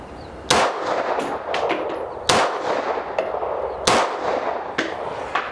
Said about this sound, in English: I'm just going to take the safety off, pull the trigger, and see how I do with that.